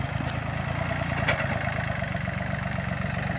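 A tractor engine runs steadily with a disc plow attached, a continuous mid-pitched mechanical drone that stays constant and close throughout, with no talk over it.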